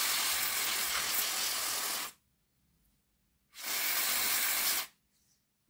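Two long bursts of aerosol cleaner spray onto the commutator of a Hornby Dublo 2218 4MT model locomotive motor, each a steady close hiss about two seconds long, separated by a short silent gap.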